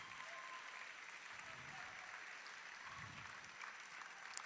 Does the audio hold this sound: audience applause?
yes